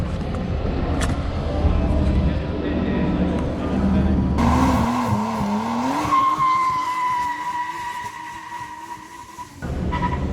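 A Toyota GR Supra A90 is driven in Malaysia, a continuous engine drone with a rising pitch as it gathers speed, then a steady tone with road noise that cuts off near the end.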